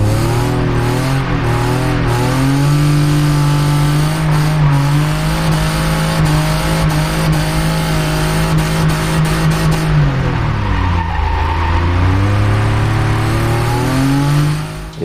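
BMW E36 drift car with hydraulic handbrake on a circuit, its engine droning loudly and steadily at high revs, then dropping in pitch and rising again as the car slides, with faint tyre noise and no talk.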